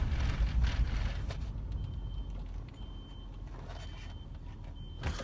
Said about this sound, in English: That's a panic alarm for someone else's car.